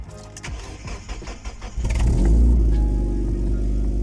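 A car engine that has sat unstarted for about two weeks, with 92,000 miles, cranks with a rapid churning starter, then catches and roars to life, settling into a loud, close, steady idle.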